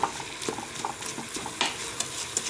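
A spoon stirs vegetables for a green risotto in a Cookeo multicooker, making quiet, irregular scraping strokes over a soft sizzle of frying; no one speaks.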